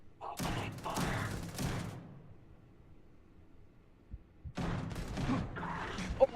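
Gunfire in a shooter video game comes as two dense bursts of rapid shots separated by a quiet gap, close and loud, with a few isolated thuds between them and no talk.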